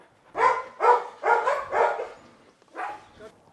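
A dog at a dog training and boarding centre in Cameroon barks five times up close, loud and sharp, with the first four in a quick rhythmic run and one more after a short pause.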